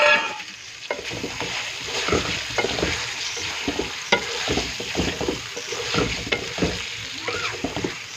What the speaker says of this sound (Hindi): अभी आपने इसको बहुत अच्छी तरह से भूनना है।